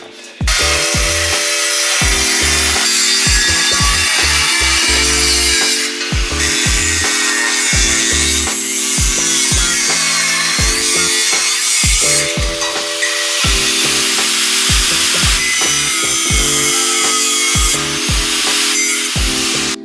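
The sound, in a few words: cutting wheel shaping metal for a CB650 bobber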